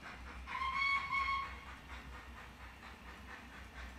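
J15 steam locomotive sound on a model railway, a two-tone whistle blast early on over a quiet, steady rumbling hiss of the engine, no voices.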